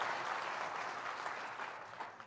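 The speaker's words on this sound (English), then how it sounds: "another round of applause for such a fantastic group" Applause from a high school show choir premiere night audience, a steady wash of many hands clapping, moderately faint and fading slightly toward the end.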